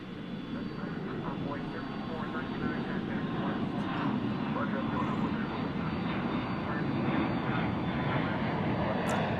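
Airliner, American 132 bound for Dublin, returning to Dallas/Fort Worth airport, its engines a steady distant roar swelling slightly toward the end.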